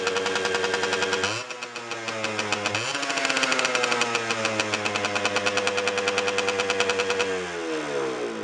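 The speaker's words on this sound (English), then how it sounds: "Half a kick and it fired with a clean plug" A 1990 Honda NS50F moped with a clean plug and nine-year-old gas fires up and runs, its small two-stroke engine rising to a buzzing rattly rev, then holding a steady idle, loud and close.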